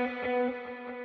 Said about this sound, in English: That's a dual delay.